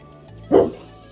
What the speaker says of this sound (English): this is my dog